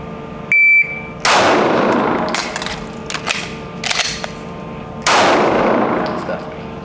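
Gunfire during a shooting qualification course, with three loud, close bursts of rapid shots separated by short pauses for reloads and a brief electronic beep at the start.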